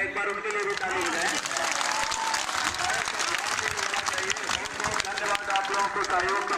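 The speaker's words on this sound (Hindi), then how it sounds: "एक बार उनके लिए भी ताली बजाएं।" A crowd claps steadily for several seconds at an outdoor village election gathering in Pratapgarh, dense, even applause with a few voices and faint chatter mixed in.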